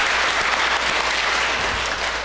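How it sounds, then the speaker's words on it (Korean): Congregation at a Catholic Sunday Mass applauding to welcome newcomers, a dense, steady burst of many hands clapping close and loud throughout, with no talk. "박수로 환영하시겠습니다."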